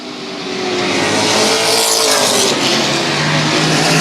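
Race cars roar around the oval at Central Texas Speedway in a tight pack during a late-lap race, loud, sustained engine noise swelling and sweeping past with no speech.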